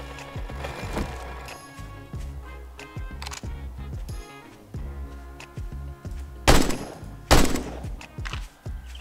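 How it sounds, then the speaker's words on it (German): Gunfire in the game 7 Days to Die: a few sharp, loud shots ring out near the end, following a series of dull thumps and clunky game sounds. "Das nenne ich mal einen sauberen Schuss."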